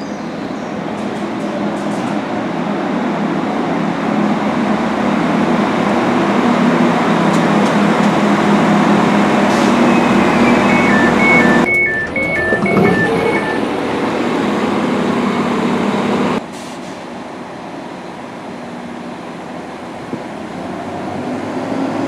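A diesel train rumbles into a Calder Valley Line station in West Yorkshire, a loud steady drone of engine and wheels with brief tonal squeals as it slows, then a lower hum as it stands.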